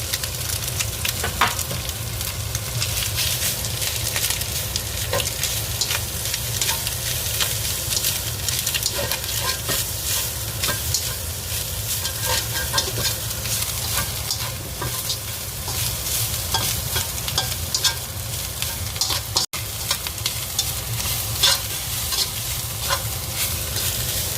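Shiitake mushrooms frying in a tablespoon of sesame oil, a dense continuous sizzle and crackle that stays loud and steady throughout, close up with no talking.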